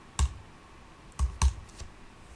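A few sparse, sharp keystrokes on a computer keyboard, close and clear, with quiet gaps between them.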